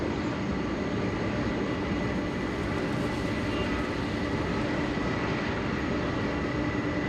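Aircraft at Sydney Airport, a steady, loud, broadband roar that holds evenly for the whole stretch with no breaks and no voices.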